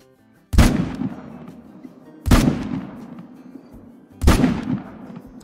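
Three loud, sharp rifle shots spaced about two seconds apart, each with a ringing tail, fired at an albino bighorn sheep during a hunting video game.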